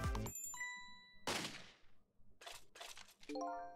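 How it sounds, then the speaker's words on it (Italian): A bell chimes in the video game Ghost Trick, ringing out in a few bright, clear tones alongside sharp game effect sounds. "Scampanella."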